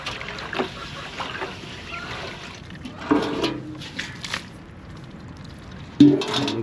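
Fresh water pours and splashes into a ducks' water dish on a Muscovy duck farm, uneven gushes and trickles with louder bursts around the middle and end, close by without speech.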